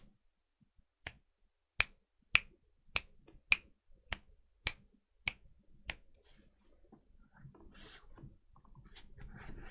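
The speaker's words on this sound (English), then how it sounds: "Snapping my finger sounds like this." Nine sharp finger snaps, fairly evenly spaced and close by, followed by faint rustling and low background noise.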